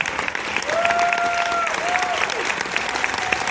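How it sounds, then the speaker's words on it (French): An audience claps steadily throughout after a children's Celtic circus performance at a festival in Carhaix, France, a dense wash of applause with a faint sliding tone rising and falling briefly in the middle. "Je pense qu'on peut les applaudir très fort."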